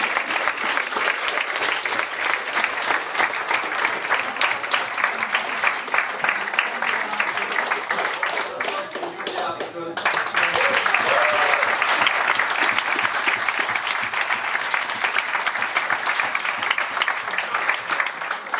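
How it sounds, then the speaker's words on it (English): An audience applauds at the closing ceremony of a Model EU event in Brussels, sustained loud dense clapping that dips briefly midway, then swells again and continues to the end. "So big applause for Francisco."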